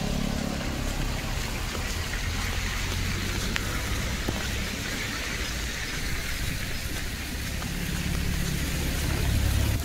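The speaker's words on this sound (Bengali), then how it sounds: "বৃষ্টি না হলে তো অনেকটা ভালো হতো, বৃষ্টি হওয়া তো আর কী করো" Steady rain falling through a dense, old forest on the remote approach to Bhimashankar in India, a continuous even hiss of rainfall with a low rumble beneath, with no voices.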